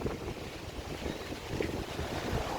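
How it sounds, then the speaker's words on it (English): Strong wind buffeting the microphone outdoors beside a road and housing estate, a constant low roaring rumble with gusty swells, loud and unbroken, no one speaking. "Wow, it's windy."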